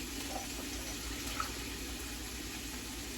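Water poured into a rice cooker pot for cooking rice: a steady, soft pouring and trickling stream, continuous and close, with no talking.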